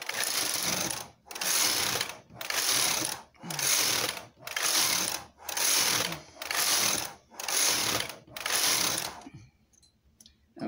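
Machine knitting of a baby-sized slipper: a knitting machine carriage whirs back and forth in eight steady, even passes, each about a second long with brief pauses between, loud and close, then stops.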